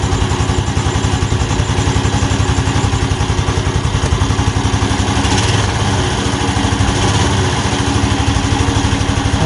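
A motorcycle engine runs at a steady idle after starting, a loud close rapid putter with an even rhythm throughout.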